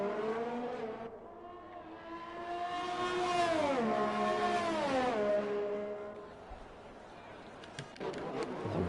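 An Alfa Romeo Formula 1 car races down the straight at Monza in F1 2020, its engine note climbing steadily through a long gear. It drops away near the end as another car's whine cuts in.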